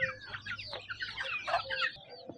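Chickens and small chicks clucking and peeping close by, a busy overlapping chorus of short calls and chirps that continues through the whole clip.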